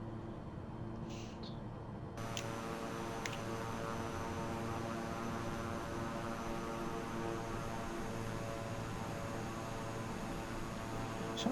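Steady droning hum of a King Air twin turboprop cruising in a flight simulator over the Australian outback, a continuous even tone with layered harmonic whine and no breaks.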